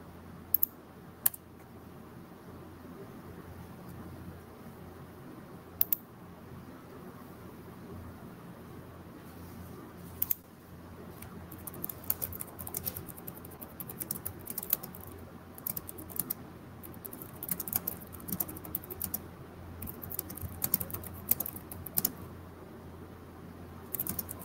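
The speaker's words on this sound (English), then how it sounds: "Forgive the sound of the keyboard." Typing on a computer keyboard, quiet scattered clicks at first that grow into denser, irregular bursts of keystrokes over a low, steady room hum.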